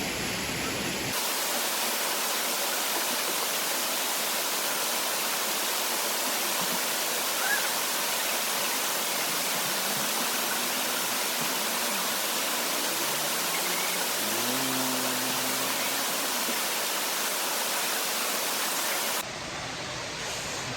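A waterfall at Nanu Oya roars as a dense, steady rush of falling water, loud and close, holding unchanged for about twenty seconds with a faint low murmur partway through.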